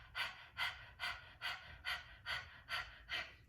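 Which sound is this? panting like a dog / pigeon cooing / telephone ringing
panting like a dog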